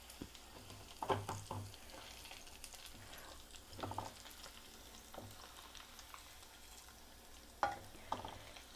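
Spices fry and sizzle in hot oil for a curry leaf pickle, with asafoetida in the pan, under a steady soft crackle, broken by several sharper scraping stirs of a spoon against the pan, fairly quiet and close.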